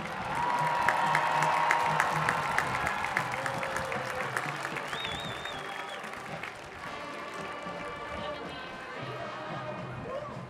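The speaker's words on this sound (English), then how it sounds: "one more round of applause and welcome home to all of our former queens" Loud, dense applause from an audience welcoming former homecoming queens at a school district's 50th homecoming celebration, sustained throughout and easing slightly toward the end.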